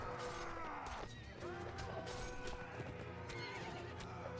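Horse neighing and galloping in the video game Mount and Blade Warband, amid a siege battle: dense, continuous clamor with whinnies, hoofbeats and scattered crashes, loud throughout and no speech.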